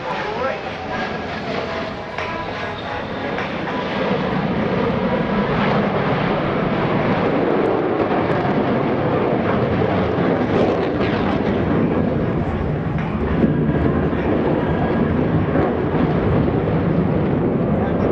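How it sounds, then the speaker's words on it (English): Several US Navy Blue Angels F/A-18 Hornet jets perform a barrel roll break at the NAS Oceana airshow, a loud, sustained, broadband roar that swells after the first couple of seconds and holds steady and close for the rest of the pass. "Ladies and gentlemen, the Blue Angel barrel roll brake."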